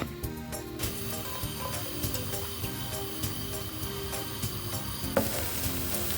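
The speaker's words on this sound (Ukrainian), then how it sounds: "Випікати млинчики буду на сковорідці для млинців." Cheese-and-herb crepe batter sizzles and crackles steadily in a hot crepe pan, a constant frying hiss with occasional sharper pops and scraping clinks.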